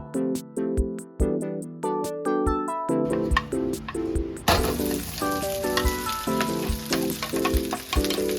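Garlic frying in a pan for pares, a steady close sizzle that thickens partway through, with light clinks of a utensil and a soft melodic tone running over it.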